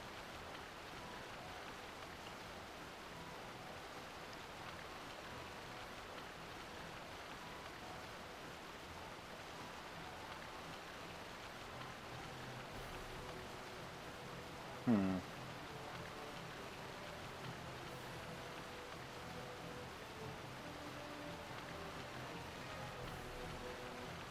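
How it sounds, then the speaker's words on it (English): Steady rain falls in the Final Fantasy XII game world, a soft continuous hiss of drops with a brief louder tick midway and no voices. "Dang it, it's still raining out here?"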